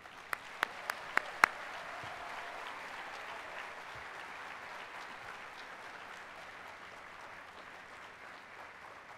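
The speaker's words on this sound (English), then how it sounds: "Please join me for a big round of applause for MSC Seaside." An audience applauds at a cruise ship naming ceremony for the MSC Seaside, steady clapping that holds for several seconds at a moderate distance, opened by a few sharp louder claps.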